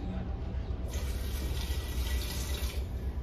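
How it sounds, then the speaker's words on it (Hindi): Water pours steadily into a cooking pot of paya (trotters) with green chillies, a soft continuous splashing rush with a brighter trickle joining partway through. "पानी डालते हैं जी"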